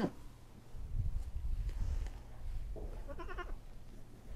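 A nursing mother goat is heard in a brief bleat near the end, over low rumbling handling noise and faint background.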